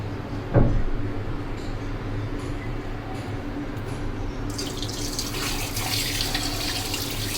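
Water runs steadily from a tap into a sink while large gulsha fish are washed, with a bump at the start and splashing under a continuous close flow.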